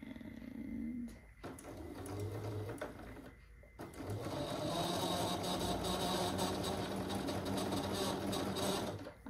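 Domestic sewing machine stitching quilt pieces for a designer mystery block-of-the-month quilt, running in steady rapid bursts with brief pauses, then a long continuous close run.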